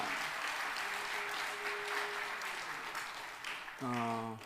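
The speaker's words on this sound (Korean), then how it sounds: "우리 하나님 앞에 감사의 박수 한번 합시다." A congregation at a church revival meeting claps steadily in thanks, a soft held tone threading through the applause before a brighter chord swells in near the end.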